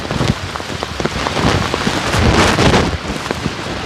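Steady heavy rain pours down, a dense hiss of drops spattering on surfaces, with no voices.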